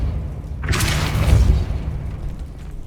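A Depulso spell goes off in the Hogwarts Legacy game, a loud, deep booming blast with a rushing burst that swells quickly and then fades into a lingering rumble.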